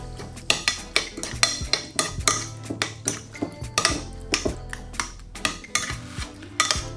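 Salt, soy sauce, pickle juice and glaze being stirred together for chicken wings, with a utensil clinking repeatedly against a bowl in quick, irregular scrapes and taps, close and clear, with no talking.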